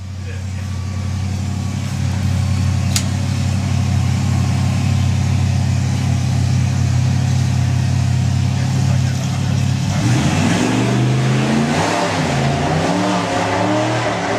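A nitrous hot rod at a drag strip holds a loud, sustained engine drone, then the pitch sweeps and wavers near the end as the car launches and accelerates hard.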